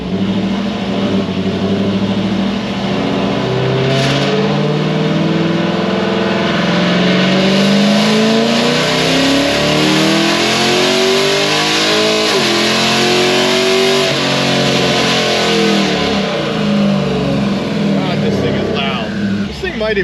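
A cam-only Chevy SS engine revs loudly and continuously, its pitch climbing and falling in repeated sweeps while set on a transbrake for a launch, with the exhaust roaring throughout.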